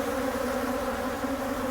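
Honey bees swarm around an open hive during requeening, a dense, continuous, loud buzzing drone filling the air up close with a steady humming tone and no talking.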